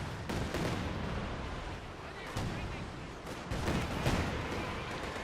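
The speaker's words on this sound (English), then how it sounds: "Another Katyusha barrage there." A Katyusha rocket artillery barrage in Company of Heroes 2 sends out a dense rumble of launches and impacts, with bursts at intervals and a commentator's voice talking over it.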